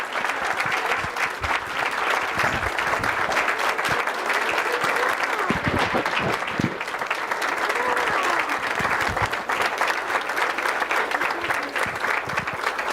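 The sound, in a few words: applause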